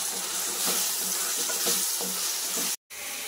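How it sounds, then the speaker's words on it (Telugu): Onion paste with salt, garam masala and turmeric frying in hot oil gives a dense, steady sizzle with a few soft stirring scrapes, close up and with no voices, cut by a brief break near the end. "ఇప్పుడు ప్రిపేర్ చేసుకున్న ఆనియన్ పేస్ట్, ఇంకా రుచికి సరిపడా సాల్ట్, కొంచెం గరం మసాలా, ఇంకా పసుపు వేసుకొని ఆయిల్ సెపరేట్ అయ్యేంత వరకు ఫ్రై చేసుకోవాలి."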